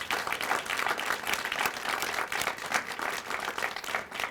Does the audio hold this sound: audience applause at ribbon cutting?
yes